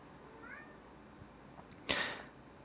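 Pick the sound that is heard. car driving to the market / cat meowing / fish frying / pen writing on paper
cat meowing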